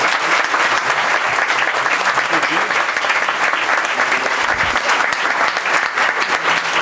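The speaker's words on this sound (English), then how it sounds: "join me in a round of applause" Sustained applause from an audience fills a school board meeting hall, dense steady clapping from a crowd of parents lasting several seconds.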